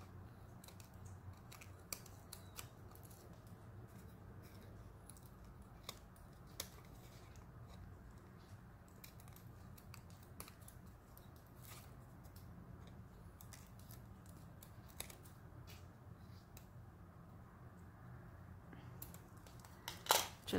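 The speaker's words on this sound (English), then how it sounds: "lay this down here and trim all the way around" Scissors trimming around a paper circle for a handmade paper flower, a steady run of faint, quick snips and small paper rustles close up, with no talking.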